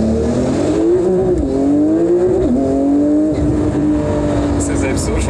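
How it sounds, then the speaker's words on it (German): A 900 hp 9FF-tuned Porsche 992 Turbo S accelerating hard from a roll, the engine pitch climbing through gear changes, loud and close, with talk over it. "Wir stehen einfach nur, rollen los und geben Gas."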